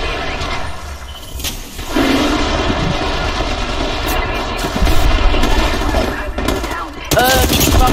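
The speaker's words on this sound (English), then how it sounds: "Firing on subject." Gunfire in the video game Apex Legends: dense, loud bursts of automatic weapon fire and impacts with shield and effect sounds, and game voice lines and player chatter mixed in.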